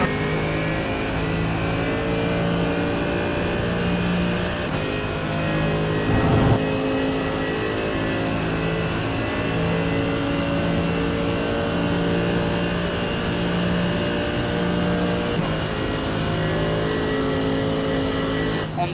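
A race car engine in a racing sim holds a steady high-pitched drone at full throttle, loud and continuous with only slight shifts in pitch and a brief dip partway through, with no talk over it.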